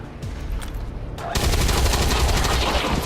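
An officer firing a shot in XCOM 2, a sudden loud burst of gunfire that cuts in after a brief quieter stretch and rolls on as a dense, continuous roar.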